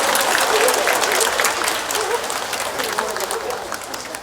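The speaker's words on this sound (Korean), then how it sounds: "우리 옆에 분에게도 우리 응원의 박수를 한번 돌려볼까요?" A church congregation at a Sunday worship service applauds each other in a dense, sustained round of clapping that fills the room, with faint voices under it.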